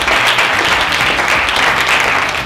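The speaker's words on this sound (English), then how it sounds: "I want you to applaud your peer leader" Sustained applause from an audience at a leadership institute gathering, honoring their peer leader: a steady, dense wash of clapping at full strength, with no talking over it.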